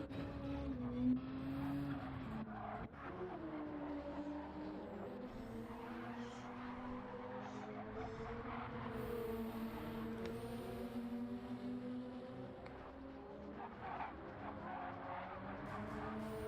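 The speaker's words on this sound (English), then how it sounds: "I do love the sound of the turbo" A turbocharged racing car engine in Gran Turismo 7 drones steadily at high revs, its pitch rising and falling through gear changes, with occasional tire noise and no voices.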